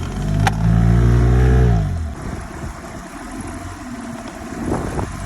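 An inflatable boat's outboard motor runs loudly up close, then winds down in a falling pitch sweep and settles into a quieter, rough idle with faint knocks.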